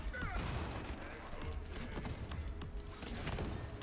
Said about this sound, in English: I'll throw some flashbangs at you